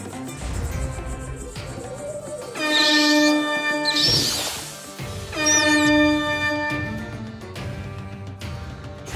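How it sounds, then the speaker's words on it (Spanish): A vehicle horn honking in the South Park: The Stick of Truth video game, two long loud blasts with harmonic tones separated by a brief gap, standing alone without talk. "Voy a tener que hacerles bocinazos."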